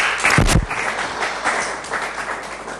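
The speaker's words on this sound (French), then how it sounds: "Est-ce qu'on peut l'applaudir ?" Audience applause at a Congolese business showcase event in Kinshasa, a dense wash of clapping that swells then gradually thins over a few seconds, with a brief thump near the start.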